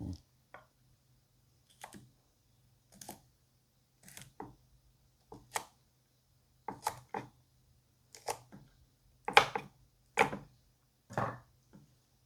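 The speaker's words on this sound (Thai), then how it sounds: "แล้วก็เอาถั่วมาค่ะ ถั่วยาวนะคะ เราก็มาหั่น" Yardlong beans cut with a knife for a Thai papaya-style pounded bean salad, giving a run of crisp, separate chopping clicks at an uneven rhythm, close and moderately loud, with no voices.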